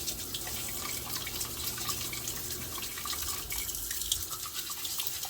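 Lukewarm tap water runs steadily into a sink to rinse a set of dentures, a continuous broadband splashing rush with faint drips, close and alone without talk.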